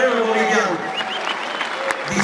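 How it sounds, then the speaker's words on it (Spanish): Crowd applause for Bolivian builders during a Spanish-language political interview with a politician, a broad wash of clapping under and around a voice, fairly loud and continuous for a couple of seconds. "Un aplauso para ellos."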